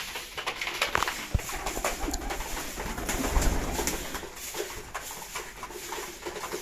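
Racing pigeons coo in a loft, with soft repeated throaty calls overlapping alongside light wing flutters and scratching, all nearby and steady.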